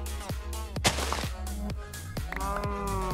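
A Minecraft cow moos several times in a row, drawn-out low calls overlapping one another at close range, with sharp clicking game sounds between them and no talking.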